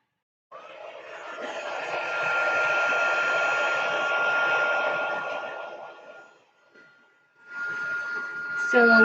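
Embossing heat tool blowing hot air, a steady loud whooshing roar that runs for several seconds, dips, then starts again near the end.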